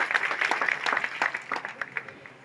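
A crowd at a temple inauguration ceremony in a village applauds the minister, a thinner, uneven patter of claps with audible individual hits, rising and falling over a couple of seconds at moderate volume.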